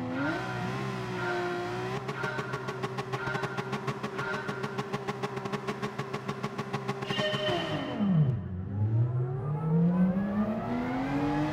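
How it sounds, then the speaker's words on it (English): A Lamborghini race car in GT Sport roars off the start, first holding a high rev with a rapid stuttering pulse, then dropping sharply in pitch before rising again as it pulls away. "Look at that Lamborghini off the start."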